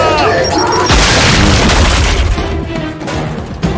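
A loud, booming bomb blast in the shooter Gears 5, played on Insane difficulty: a sudden heavy burst with a long rumbling tail that fills the scene, and combat noise continuing behind it.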